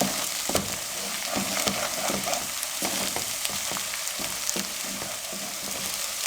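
Fish qorma masala sizzles steadily in a pan as it is fried, with a continuous hiss broken by frequent stirring clicks and scrapes, close and fairly loud, with no voices.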